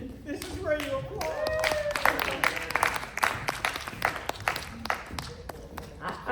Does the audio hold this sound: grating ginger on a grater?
no